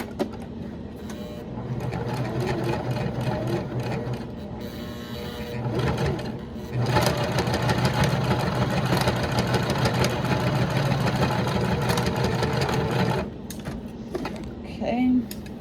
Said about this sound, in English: I am going to sew 2 lines right where my slide adjuster closes.